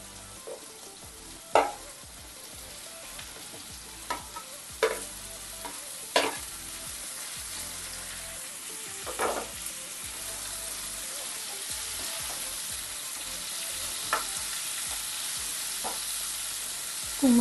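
Green pumpkin pieces sizzling gently in a pan for a prawn dish, a soft, steady frying hiss broken by occasional sharp scrapes and clinks of a spatula stirring, fairly quiet throughout.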